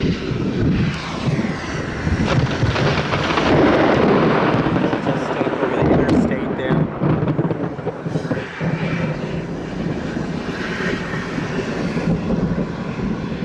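A close lightning bolt in a storm lets loose a loud, rumbling thunder crash that builds over several seconds and then rolls away into lower, fading rumbles.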